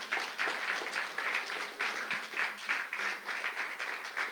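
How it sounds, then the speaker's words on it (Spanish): A church congregation at a men's conference applauds in steady, rhythmic waves of clapping, moderately distant and filling the whole stretch without pause. "Denle un aplauso al Señor."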